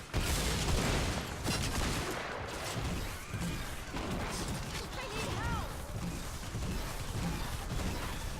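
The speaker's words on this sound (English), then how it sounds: "Oh, that's some kind of rocket launcher I'm not familiar with." Explosive weapon fire and blasts from a rocket launcher in the video game Fortnite, a dense run of booms and crashes with overlapping effects, played fairly quietly under someone talking.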